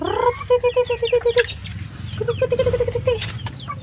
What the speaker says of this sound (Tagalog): papakain ko ito sa mga alaga kong manok